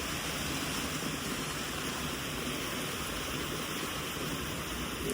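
Steady rain falls at a cement worksite, a dense, unbroken hiss that stays even throughout with no voices or pauses.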